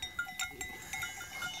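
Sheep bleat in a hilly pasture among rams, several short calls rising one after another over a quiet outdoor background.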